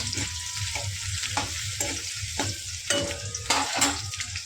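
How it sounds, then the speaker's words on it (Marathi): Onion sautés in hot oil in a pan for dhaba-style whole masoor dal, a continuous crackling sizzle broken by regular scraping strokes of a spoon, close and fairly loud. "कांदा चांगला परतून घेऊ."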